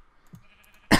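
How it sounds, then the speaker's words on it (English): A single short, sharp cough at the end, close and fairly loud after near silence. "Jeez, still got a bit of a cough."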